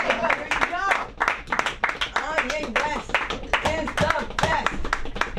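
Audience clapping and cheering at a comedy show in Los Angeles, a dense, steady burst of many hands that stays loud throughout, with voices mixed in.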